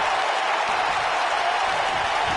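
A roaring crowd in a WWE wrestling video game on PS4, a dense, loud, continuous wash of cheering and applause that holds steady throughout.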